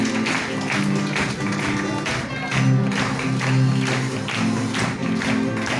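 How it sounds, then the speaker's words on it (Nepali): A church congregation at a pastor's certification ceremony claps together, with steady, fairly loud applause that keeps going for several seconds over a faint background tone. "हामी ताली बजाउँछौँ।"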